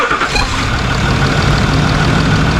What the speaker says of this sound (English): we're just going to turn the car over with this screw loose to bleed it